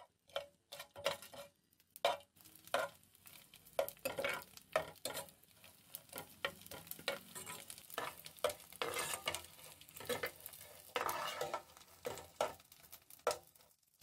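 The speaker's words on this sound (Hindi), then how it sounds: "अंदर 100 ग्राम गोंद लेंगे यानी चीड़ लेंगे। इसको हम फ्राई करेंगे।" Edible gum (gond) fries in a pan over low to medium heat, giving a soft, constant sizzle broken by frequent stirring scrapes and taps, with no speech.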